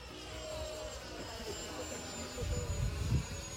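A Freewing F/A-18E radio-controlled jet with a 64mm electric ducted fan on a 4S battery, flying on its maiden flight, gives a steady high-pitched whine under wind and low rumble, fairly distant and faint.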